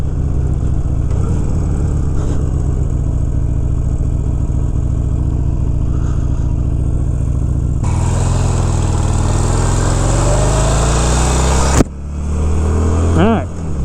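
Harley-Davidson Sportster 883 under restoration, its engine running steadily with a loud, close drone whose pitch shifts as it moves up through gears, with a louder stretch near the end and a voice talking over it.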